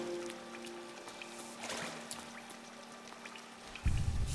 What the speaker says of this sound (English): Ooh, a waterfall.